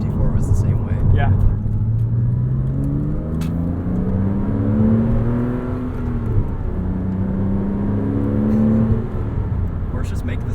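Inside a Porsche Cayman the engine drones and swells through the mid-range, its pitch rising and falling with throttle under steady road rumble, while people talk over it throughout.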